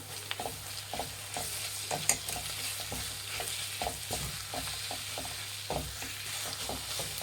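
Grated raw mango being mixed in a pan for mango rice, with a steady soft sizzle under repeated scraping and stirring strokes of a spoon, close and moderately quiet.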